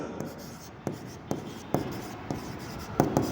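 A pen writes accounting entries on paper, making soft scratching strokes broken by regular sharp taps roughly every half second, close and fairly quiet, with no talking.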